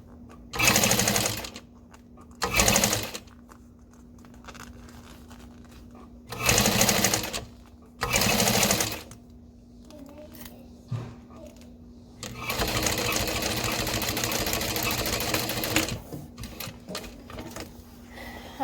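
A sewing machine stitching a backpack strap runs in short bursts of rapid mechanical whirring, four quick runs separated by pauses, then one longer steady run with small clicks between.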